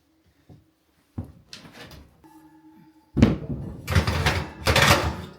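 A household oven door is worked loose and lifted off during a repair for non-heating, giving scattered metallic clunks, rattles and scrapes, close by with brief pauses between bursts.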